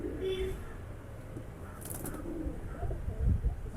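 Pigeons flying over and around a new loft, with soft cooing bird calls and a faint flutter over a low, steady outdoor background, fairly quiet and distant throughout.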